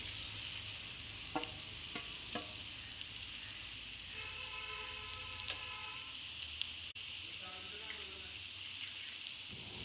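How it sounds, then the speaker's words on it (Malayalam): Spicy chicken fry with onions and spice powders crackles faintly in a pan, a soft steady sizzle broken by a few stirring taps and scrapes. "ഇതിലേക്ക് നമ്മുടെ സ്പൈസി ആയിട്ടുള്ള ചിക്കൻ ഫ്രൈ ആഡ് ചെയ്ത് കൊടുക്കാം."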